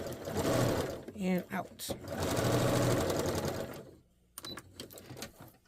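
Sewing machine running a long regular stitch down fabric from the shoulder, a loud close steady whir that stops near the end, with a person talking over it.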